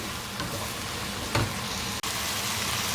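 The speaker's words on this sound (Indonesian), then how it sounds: "setelah masak kemudian masukkan saus tomatnya seperti ini" Tomato sauce poured into a pan of frying spaghetti, giving a steady close sizzle with faint stirring and one brief louder burst partway through.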